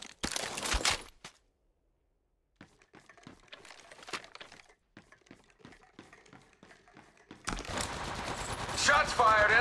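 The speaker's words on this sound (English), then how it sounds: "Shots fired and they're hitting my ultimate." Gunfire in the Apex Legends Mobile video game: a sharp opening burst of shots, then scattered single cracks and taps at moderate distance, ending in heavy sustained automatic fire with other game effects layered over it.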